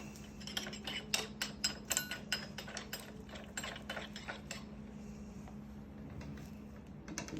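Someone tightens a pressed-in bottom bracket and spindle on a vintage Klein bicycle, giving a run of close, sharp metallic clicks and ratcheting ticks that thin out toward the end over a low steady hum.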